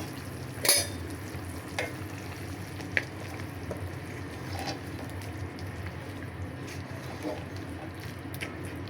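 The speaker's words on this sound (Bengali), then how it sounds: "বলক আসতেছে।" Beef curry starting to boil in a covered pot on a stove: a low, steady bubbling simmer with faint sizzling, broken by a few sharp clinks and knocks of a lid or utensil.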